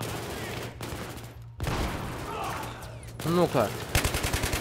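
Automatic weapon fire crackles in a Battlefield 3 match, with scattered shots and noise early, then a rapid rhythmic burst of rounds near the end; someone speaks briefly in the middle.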